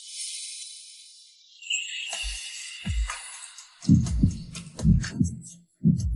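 Heartbeat sound effect during a nervous moment before meeting a family: low thumping double beats, loud and close, repeating in a steady rhythm over the second half, after a fading high shimmering tone with no talk.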